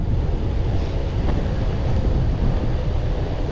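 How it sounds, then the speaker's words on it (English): Heavy wind buffets the microphone while riding a Possway T3 electric skateboard, a loud, continuous low rumble and roar with no voices. "the wind is bucking me"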